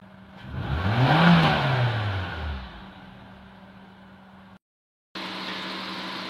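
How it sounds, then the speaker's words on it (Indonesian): A Nissan car engine revs up once and settles, then runs at a smooth, steady idle after a short break in the sound. "Sekarang suara mesin sudah halus dan RPM idle-nya sudah normal, tidak berebut lagi."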